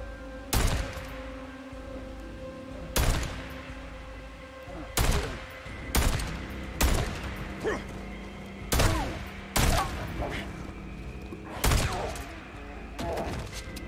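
Repeated gunfire in the video game Days Gone as a player shoots a bear, about ten loud, sharp shots in an irregular rhythm over a steady low game ambience.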